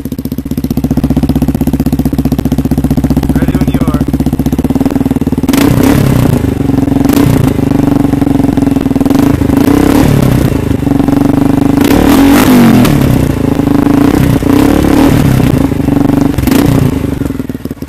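A loud Yamaha Raptor 350 ATV engine with an HMF aftermarket exhaust idles with a rough, throaty note, then is revved several times in short bursts before settling back to idle.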